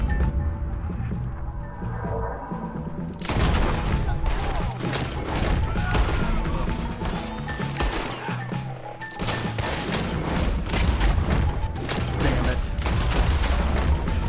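A Red Dead Redemption 2 game scene with a quiet stretch, then a sudden burst of dense, loud gunfire and clatter that continues steadily. A voice briefly mutters over it.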